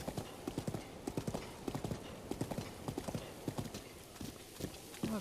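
A horse's hooves clip-clop in The Legend of Zelda: Breath of the Wild, a quick, steady run of hoofbeats with a brief snort near the end.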